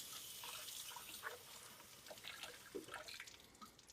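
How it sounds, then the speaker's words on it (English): Fresh produce for carnita bowls rinsed under a running kitchen tap, a soft continuous stream of water with scattered splashes and drips as it is handled, fairly quiet. "I'm going to give it a nice wash real quick."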